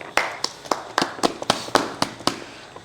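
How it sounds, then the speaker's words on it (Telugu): Sharp, evenly spaced claps ring out at an IPL auction, about ten crisp hand strikes in a steady rhythm, close and distinct with no talk over them. "చప్పట్లో."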